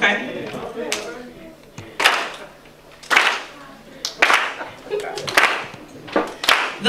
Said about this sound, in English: So I'm going to start to clap, and then y'all just kind of come on in